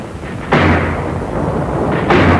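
Heavy battle gunfire from 37mm guns and mortars in a 1944 Marshall Islands newsreel, a booming blast followed by a long rumbling roar and a second boom, loud and dense, with no talking.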